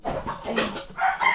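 Backyard chickens owned by a family in the Philippines clucking in a short, close burst of overlapping calls, with no talk over them.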